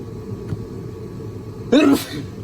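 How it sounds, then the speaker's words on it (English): A single sharp sneeze bursts out close to the mic against a low background hum, loud and brief. "I knew I was gonna sneeze"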